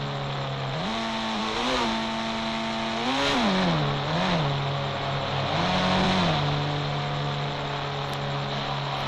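A modified Thar engine in the Indian Bike video game, a steady synthetic engine drone that rises and falls in several short revving swells, loud and continuous with no talk.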